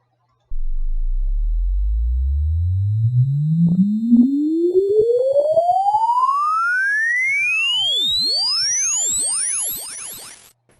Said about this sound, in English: Listen as we sweep through that range with a sine wave.